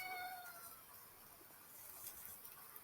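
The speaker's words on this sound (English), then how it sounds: "Meow to you too" A cat meows a few times in high, drawn-out calls near the start, fading into a quiet outdoor background with no talking.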